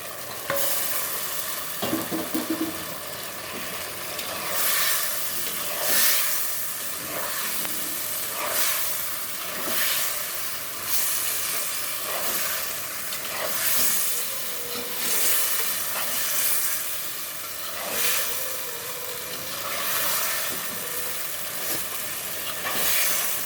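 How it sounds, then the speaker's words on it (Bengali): Fried fish stirred and cooked with spiced garlic masala in a clay pot, a steady loud sizzle with repeated scraping stirs and a soft hiss of steam, no voices. "আমি এই ভাজা মাছগুলো দিয়ে দিব মাছগুলোও ভুনা করে নেব একসাথে"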